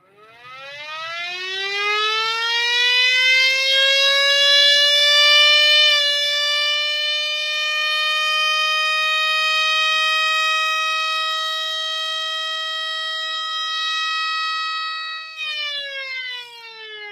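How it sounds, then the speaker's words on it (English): A small 3D-printed model siren built after the Screamer S2 winds up into a loud, steady wail that holds for about fifteen seconds, then briefly wavers and drops near the end, with no talking over it. "More like a 13 port siren."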